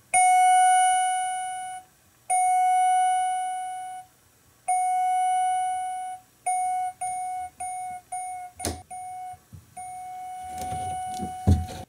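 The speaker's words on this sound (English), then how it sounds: "And there you have it, the Westinghouse elevator chime." A Westinghouse MT elevator chime rings a clear, sustained bell-like tone several times, first in long evenly spaced strikes, then in quicker, shorter repeats, with a few clicks and handling noises toward the end.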